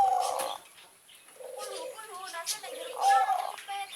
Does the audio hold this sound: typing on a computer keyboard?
no